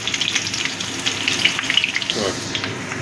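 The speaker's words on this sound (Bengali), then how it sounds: "একটু লাল লাল করে আলুটা ভেজে নেব।" Potato pieces frying in hot oil until reddish, crackling and sizzling steadily with scattered sharp pops, heard close with a faint voice in the background.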